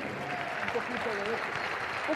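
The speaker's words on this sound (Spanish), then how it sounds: "denle un aplauso fuerte al Espíritu Santo" A church congregation claps together in steady applause, a broad wash of hands beneath a preacher's voice speaking over it.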